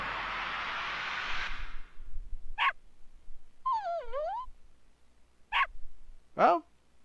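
In the Legend of the Dragoon video game, a dog gives several short, sharp barks and yips, separated by gaps, alongside other brief game sound effects and a hissing burst at the start.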